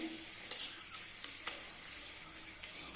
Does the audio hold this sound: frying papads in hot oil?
yes